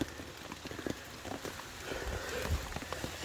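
Rain falls on a canvas tarp beneath trees during a heavy wet-weather overnight camp, a dense, steady patter with occasional heavier drips, soft and continuous.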